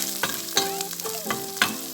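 Steady crackling sizzle of garlic frying in a pan, with occasional scraping stirs from a utensil, close and fairly loud.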